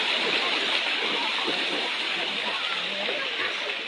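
Primary school pupils at Namakando wade through a flooded river on their way to school, with a continuous rush of water and splashing, loud and close throughout.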